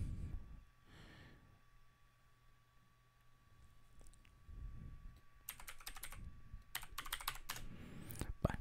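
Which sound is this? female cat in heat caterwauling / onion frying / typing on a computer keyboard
typing on a computer keyboard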